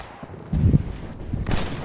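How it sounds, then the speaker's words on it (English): Video game gunfire as players shoot aliens on a combat map, a loud burst of shots thumping out mid-clip and another cluster near the end, with no talk over it. "we're shooting aliens."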